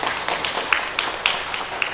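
A church congregation applauding during a Sunday service, with scattered claps forming a light, brief round of applause.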